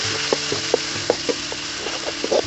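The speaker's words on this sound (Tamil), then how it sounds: "வெங்காயத்தை நல்லா வதக்கிக்கலாம்" Shallots sauté in a pan for village-style curry leaf chicken, a steady close sizzle broken by regular soft scrapes and taps of a spatula, with no talking.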